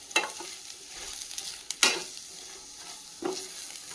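Chopped onions sauté in a pan for a poori masala, with a soft steady sizzle broken by a few sharper scraping stirs of a spoon against the pan; no talking.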